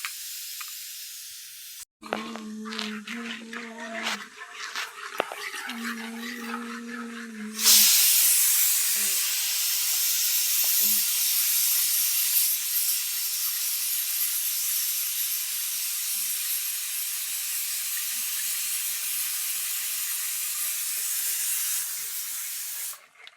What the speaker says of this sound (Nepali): म चाहिँ आगोमा मकै भुट्न लाग्छु